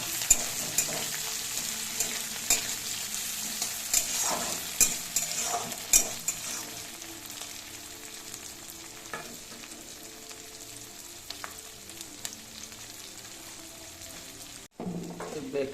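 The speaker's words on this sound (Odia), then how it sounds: "ଭଲସେ ଟିକେ ଘାଣ୍ଟି ଦେବା" Capsicum stirred and fried in a pan for an Odia chilli fish curry: a steady oily sizzle with frequent scraping spoon strokes, close and fairly loud, cutting out briefly near the end.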